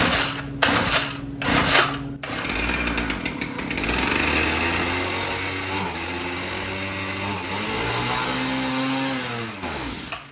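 A small petrol engine is pulled over twice with short sputters, then catches and runs, a close, rough, steady putter that revs and settles before dying away near the end.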